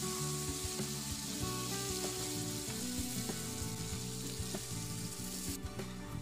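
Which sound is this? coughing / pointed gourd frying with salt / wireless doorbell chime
pointed gourd frying with salt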